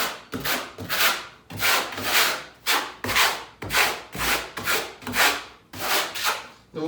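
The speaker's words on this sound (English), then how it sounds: "go ahead and flat trowel the floor first" A trowel flat-spreads thin-set mortar over a floor in close, rhythmic gritty scrapes, about ten strokes in regular back-and-forth pulses with brief pauses between them.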